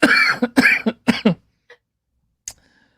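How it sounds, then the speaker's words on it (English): A run of several harsh coughs close up, followed by a short pause and one last small cough. "You're gonna make me cough."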